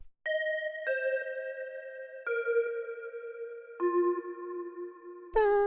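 An FM synth built from two sine waves plays a soft organ-like melody of a few sustained, stepwise descending notes, clean and bell-toned. It ends on a brighter, noisier final hit.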